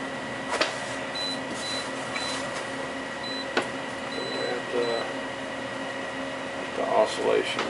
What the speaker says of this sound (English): That feels a lot better having that air conditioning there.